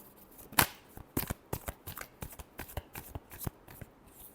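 Tarot cards are shuffled close by in a quick run of crisp riffling flicks and soft slaps, about a dozen bursts in steady succession with no talking.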